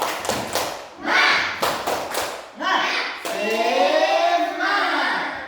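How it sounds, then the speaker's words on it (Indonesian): Students in an Indonesian classroom do a rhythmic group clap: several quick bursts of hand claps and taps in short patterns, loud and close, mixed with children's voices and shouting. "Semuanya tepuk semangat."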